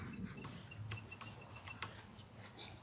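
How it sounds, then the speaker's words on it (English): Several short, high chirps from a bird repeat at an uneven pace over a steady low background hum, faint and somewhat distant. "Oh, I hear the bird, Eric."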